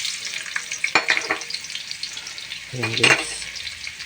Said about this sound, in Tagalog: Gisa natin yung bawang tsaka sibuyas